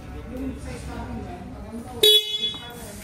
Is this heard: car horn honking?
yes